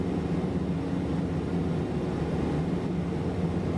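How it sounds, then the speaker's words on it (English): In Microsoft Flight Simulator 2024, a Beechcraft Starship's engines drone from the cockpit with a loud, steady, low hum and hiss that does not vary. No voices are heard. "I love the way all this shit sounds in this airplane."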